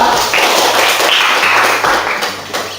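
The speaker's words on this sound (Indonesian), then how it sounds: "Kita beri aplaus dulu untuk kelompok 3" A classroom group applauds a presenting team, a steady wash of many hands clapping at once. It is fairly loud and continuous, then tapers slightly toward the end.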